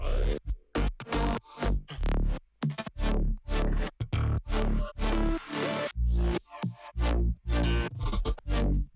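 Loud electronic music drop with chopped synth chords and deep bass, pulsing in rhythmic bursts separated by short gaps.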